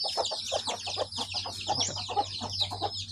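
Several hens, including a broody hen, cluck softly in short repeated bursts in a coop, with higher chirping birds in the background and a low steady hum, nobody speaking.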